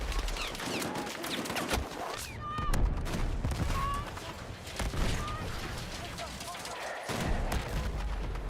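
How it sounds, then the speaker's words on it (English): Frantic Battlefield 6 firefight with repeated grenade blasts and gunfire in a dense burst-filled mix, loud and continuous throughout, with a voice talking over the action. "The amount of grenades they're throwing out here is actually kind of absurd."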